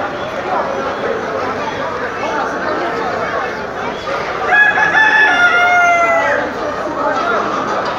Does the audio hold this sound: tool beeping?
no